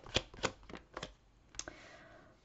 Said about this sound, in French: je vais tirer toutes les cartes